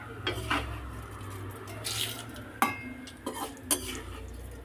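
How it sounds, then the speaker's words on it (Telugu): Urad dal frying and being stirred in a kadai: a ladle scrapes and clinks against the metal pan in scattered strokes, with a soft frying hiss underneath, fairly quiet and close, with no voices. "ఇలా వేయించాలి ఫ్రెండ్స్, గోల్డెన్ బ్రౌన్ వచ్చే వరకు వేయించాలి."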